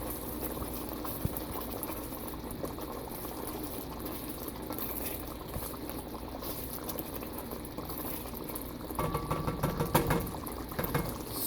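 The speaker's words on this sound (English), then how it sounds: "And I'm gonna give it a stir." Okra soup seasoned with hot habanero spice bubbling steadily in a pot, a dense continuous simmering hiss and pop that holds even throughout, with a brief rattle of stirring near the end.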